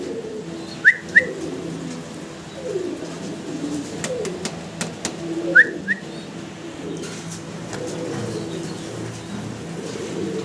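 Soft pigeon coos murmur repeatedly in the low range, with a couple of brief whistly chirps and scattered clicks over a steady background.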